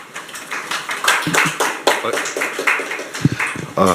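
Audience applause welcoming a speaker to the podium at a panel forum on amending criminal procedure law: irregular, fairly close claps arrive in scattered bursts over a few seconds, with no voices over them.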